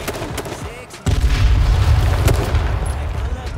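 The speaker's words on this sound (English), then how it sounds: "He's gonna throw another nade, isn't he?" A grenade going off in the video game H1Z1: after a few sharp shots, a sudden heavy boom hits and rolls on as a loud, sustained rumble with crackles.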